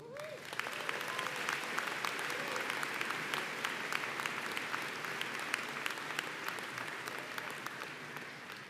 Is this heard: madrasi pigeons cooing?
no